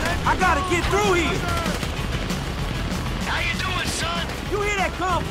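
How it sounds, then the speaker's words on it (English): Grand Theft Auto V gunfire in a hectic shootout, bursts of rapid shots crackling loudly over a constant roar of chaotic action, with a character shouting partway through. "You hear that gunfire?"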